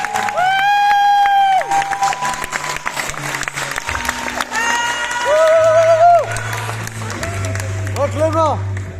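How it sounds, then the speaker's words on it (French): An audience claps steadily in a hall, the applause running under prominent tonal, voice-like sounds that rise and fall throughout. "Je vous demande de l'applaudir bien fort."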